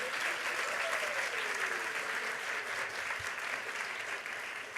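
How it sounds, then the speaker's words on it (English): Dense, steady applause from a large audience at an anti-bullying school assembly, filling the whole stretch loud and continuous with a faint crowd murmur beneath. "So we'd like to have all of you give them a big round of applause right now for making that possible."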